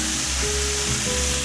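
Onions sizzle steadily in a hot pan, a loud, continuous frying hiss with no voices over it.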